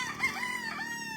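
A gamecock stag crows at a game farm, one drawn-out cock-a-doodle-doo heard at moderate distance and fairly faint, with no talking.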